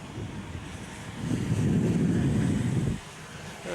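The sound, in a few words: strong wind at Lydd kart racing circuit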